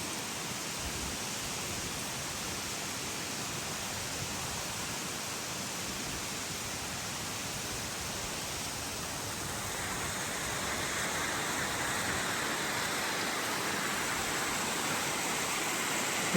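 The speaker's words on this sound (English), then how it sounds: "Water's trickling over the edge up there too." Steady broadband rush of water trickling over a rock edge at Bridal Veil Falls in Telluride, Colorado, amid volcanic tuff; a continuous hiss that grows slightly louder and brighter toward the end, with no voices.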